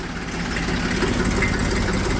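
A tractor engine idles in a steady, low, throbbing rumble, close and continuous without a break, with no voices heard.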